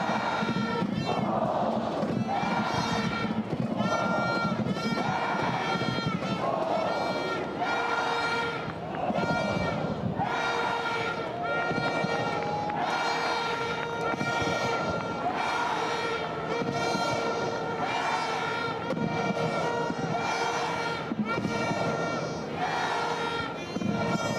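A college men's soccer crowd of about 5,083 fills Dail Stadium for NC State against North Carolina, a sustained roar with chanting and rising swells, with a commentator's voice running over it throughout.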